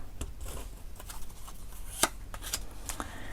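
Tarot cards shuffled by hand before one is drawn, a quiet soft riffling with a few sharper flicks and one crisp snap near the middle, no talking.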